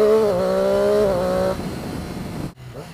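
A Triumph Daytona 675R supersport motorcycle engine revs loudly and close, its tone stepping down abruptly with quick-shifter gear changes, then briefly cutting out near the end.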